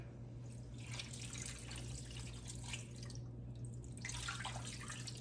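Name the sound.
water being poured into a cooking pot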